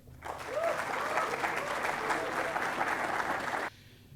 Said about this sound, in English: With a huge round of applause, let's warmly welcome Mr. Ankit Mehta sir to the stage.